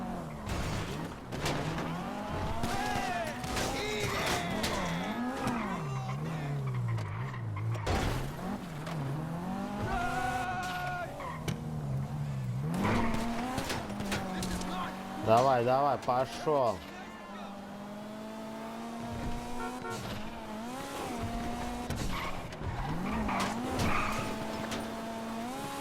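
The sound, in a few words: car driving and skidding in the video game GTA V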